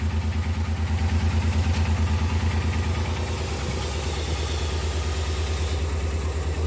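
A Multicab engine running at high RPM while a brake vacuum leak is present, a loud, steady mechanical drone with rhythmic vibration and a faint high whine that stops near the end.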